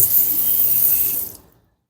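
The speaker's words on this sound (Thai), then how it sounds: "เปิดน้ำใส่ดูดีน้ำเข้าร่องไหม" Bathroom tap water pours onto a phone case, a steady bright hissing stream that runs for over a second before cutting off abruptly into silence.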